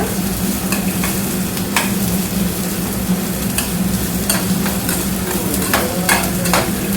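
Garlic sizzles steadily in oil in a pan for a spicy Kannada bell pepper palya, with a spoon scraping and stirring through it in repeated sharp strokes over a constant hiss.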